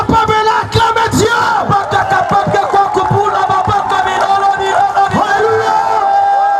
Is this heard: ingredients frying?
no